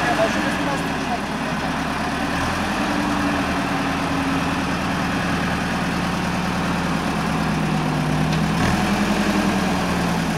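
A car engine idles with a steady low rumble throughout, while people talk over it, as the car drives through floodwater in Wrocław, Poland.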